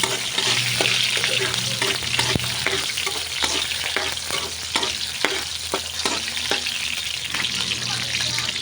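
Garlic and onion sauté in a hot pan, a continuous dense sizzle with frequent sharp spatula scrapes and taps, close up with no talking.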